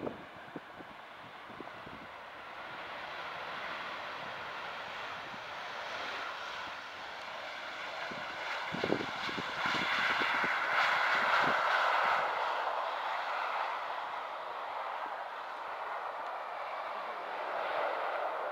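Steady jet engine whine and roar from a Thomson airliner taxiing at Doncaster Robin Hood Airport, heard from a distance with wind buffeting the microphone and swelling slightly midway.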